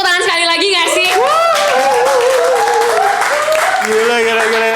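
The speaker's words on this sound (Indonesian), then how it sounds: "Kita kasih tepuk tangan sekali lagi nggak sih?" An audience in a packed hall of thousands applauds loudly and continuously, a dense roar of clapping with cheering voices and shouts layered on top throughout.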